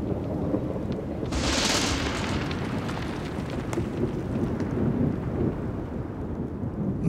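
Thunderstorm with steady rain in the Tatra mountains, a rumble of thunder swelling early and then fading under a continuous hiss of rainfall, with no voices.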